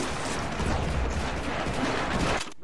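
Dense, continuous gunfire from a retro war video game, a steady wash of overlapping shots and explosions that cuts off sharply at the end.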